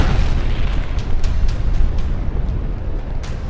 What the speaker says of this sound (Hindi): कैथोलिक चर्च पर हुए इस धमाके ने पूरी दुनिया को हिला दिया